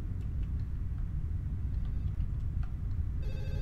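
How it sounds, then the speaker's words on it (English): A telephone ringing inside a room in a horror video game, heard faintly over a constant low rumbling background drone, with a brighter ring tone emerging near the end. "The phone's ringing in there"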